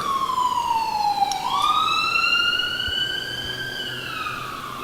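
Ambulance siren passing at a distance, a single sweeping wail that falls then rises again and slowly fades, steady and moderately faint over low traffic rumble, with no talk.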